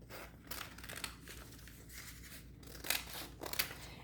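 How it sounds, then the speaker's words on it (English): Scissors snip through paper along a rectangular outline in a craft project, a quiet series of crisp cuts and rustles, the last few strokes sharper and closer, with no talk. "And then cut along this rectangular shape."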